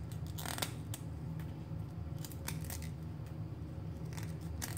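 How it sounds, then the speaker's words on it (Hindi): A hard piece of nutmeg is cut while making homemade garam masala, giving a few sharp crisp snips and clicks over a low steady background hum, fairly faint and close, with no speech. "ये जो जायफल का टुकड़ा था इसको मैं काट लूँगा ताकि वो सारे मसाले में अच्छे से मिक्स हो जाए।"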